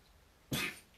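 A single short, sharp cough bursts out close by after a quiet moment, with a faint catch of breath right after it.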